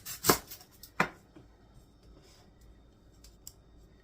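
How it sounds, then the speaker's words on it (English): Knife cutting up an onion on a board, a few quiet crisp chops near the start, then faint scattered cuts over low background noise. "And I'm going to cut up an onion as well."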